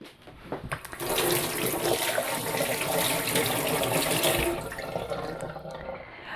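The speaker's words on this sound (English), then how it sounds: "And I'm going to rinse this off." Tap water runs steadily into a sink while lemons are rinsed under it, a close rushing splash for several seconds that rises in at the start and trails off at the end.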